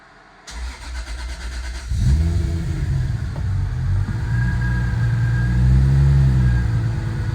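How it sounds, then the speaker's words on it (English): A turbocharged Lexus SC300 cranks with a short starter whir, then catches and settles into a steady, rumbling idle close to the microphone, with a cooling fan running in the background before the start. "if I start the car"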